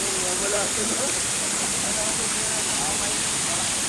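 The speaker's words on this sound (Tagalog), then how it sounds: "So pag napuno yan, babagsak, bubuhos doon." Water pours down in a steady, loud rushing cascade at the Camaya Coast beach resort in Mariveles, Bataan, a continuous close-up roar with voices faintly audible beneath it.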